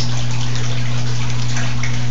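Water flowing and churning steadily inside a koi pond spin filter, a continuous loud wash with a steady low pump hum beneath, floating koi food on the surface.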